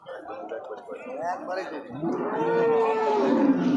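At a cattle market, a long, low cattle moo swells and holds close by, preceded by rougher grunting lowing, with no talk over it.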